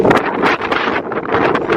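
Loud, gusty wind on the summit of Szrenica mountain buffets the microphone in strong rushing bursts, with no voices, a roaring blast that swells and dips throughout.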